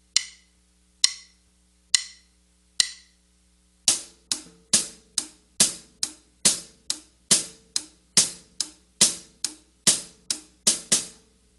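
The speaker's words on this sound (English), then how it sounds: "this 8th note hi-hat pattern, we're normally playing on counts 1 and 2 and 3 and 4" A drum kit hi-hat is played in a displaced eighth-note pattern: four widely spaced count-in clicks, then a steady run of crisp, bright strikes at an even quick pulse, close and unaccompanied.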